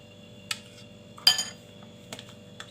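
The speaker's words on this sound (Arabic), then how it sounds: "واكمل تقليب هنا في الطبق" Spoon stirring salad with mayonnaise in a dish, giving a few sparse clinks and scrapes against the plate, close and fairly quiet, with one louder clink partway through.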